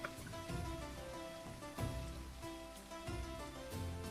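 Steady rain in Bastide, a 13th-century city-building strategy game, falls as a dense continuous hiss, with faint music under it and no talk.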